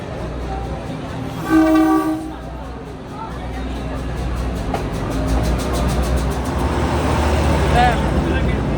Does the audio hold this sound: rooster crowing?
no